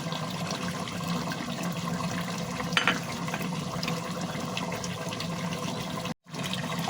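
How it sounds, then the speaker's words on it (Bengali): Chopped green chillies hit beef frying over high heat, giving a loud, steady hissing sizzle that runs throughout and briefly cuts out near the end. "এবার আমি কেটে রাখা কাঁচামরিচগুলো দিয়ে দিচ্ছি।"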